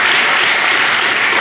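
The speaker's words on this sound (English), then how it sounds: "I don't need any applause." Sustained audience applause at a city council meeting in Fayetteville, a dense, steady wash of clapping from a crowd, loud and close throughout the short burst.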